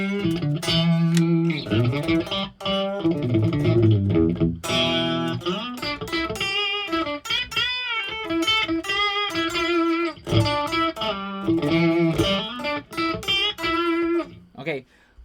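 Electric guitar played through a VC30-style amp simulation on the Brilliant channel, clean and bright, with strummed chords and single-note phrases ringing loud and up front for about fifteen seconds.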